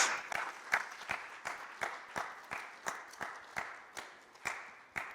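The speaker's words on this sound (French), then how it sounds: "On acclame le Seigneur, on l'encourage." Church congregation clapping in a steady, even rhythm, about two claps per second, moderately loud and continuous through the whole stretch, with faint crowd murmur underneath.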